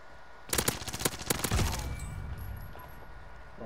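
A player's gun fires a rapid burst of about a dozen sharp shots in a video game, followed by a lingering low rumble and faint game effects.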